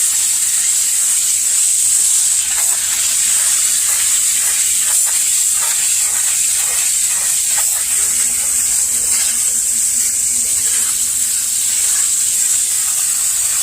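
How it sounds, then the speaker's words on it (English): Steady, loud hiss of a hose spraying water onto a paper pool filter cartridge, continuous throughout with slight fluctuations as the stream moves. "Do the same thing, spray them all down."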